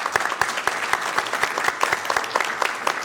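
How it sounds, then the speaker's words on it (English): Close, loud clapping for the Hispanic Chamber president at a Sacramento City Council meeting, distinct sharp individual claps in an irregular rhythm over a bed of wider applause from the room, with no talking. "Let's give her a big round of applause."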